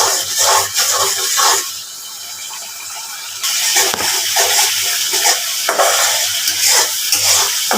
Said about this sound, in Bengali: মশলাগুলা ভালো করে কষানি লাগে।